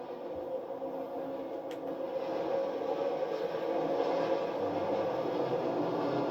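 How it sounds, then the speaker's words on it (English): An old, once nearly extinct train moving at about 20 mph, a steady low rumble and drone that holds evenly and builds slightly louder partway through, with no voices. "It's nice to be driving an old train that almost went extinct."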